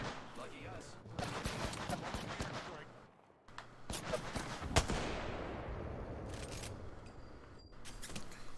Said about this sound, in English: we're being sniped from behind too now